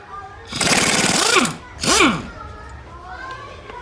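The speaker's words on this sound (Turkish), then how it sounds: "19 lokma kullanarak ön varyatörü sökeceğim" A socket wrench removes the front variator from a Daelim S3 scooter, giving two loud mechanical bursts, the first longer and the second shorter, close up, followed by quieter rattling.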